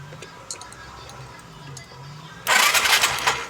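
A Suzuki Skydrive 125 scooter that will not start is kick-cranked, a sudden loud burst of broadband mechanical churning that cuts in partway through after a quieter low hum with faint ticks.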